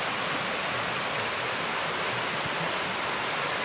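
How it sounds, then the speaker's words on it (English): A little river creek rushes close by with a loud, steady broadband roar, like a small waterfall, unbroken and without voices for the whole stretch. "Boy, it's sure pretty loud. Sleeping this close to the little river."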